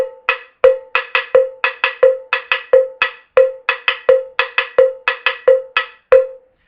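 A cowbell struck in a steady, syncopated salsa pattern at medium tempo, bright clanging hits alternating high and low, close and loud with no voices.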